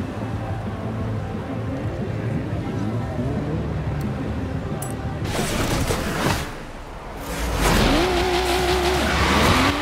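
A Nissan Skyline R34 driving in the racing game Forza Horizon 3, engine droning and rising through revs with gear shifts, louder bursts and tire noise later, with someone talking over it.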